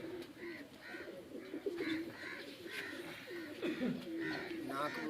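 Free-flying rooftop pigeons kept by a pigeon fancier coo repeatedly in soft, rolling calls close by, the low throaty notes overlapping steadily with faint chirps in the background.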